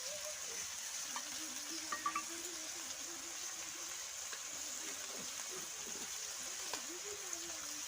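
Fish fries in oil for a fish kalia, a continuous soft sizzle and hiss at low level with a few faint clinks and a quiet voice murmuring in the background.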